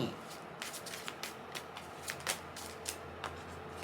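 Tarot cards being shuffled, a run of quick crisp riffling bursts at a steady rhythm, close and fairly soft.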